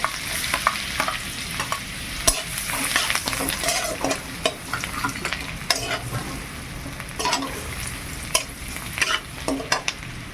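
Minced garlic and ginger fry in a pan with whole cardamom, cloves and cinnamon, a steady close sizzle broken by repeated scraping strokes of a spoon stirring throughout.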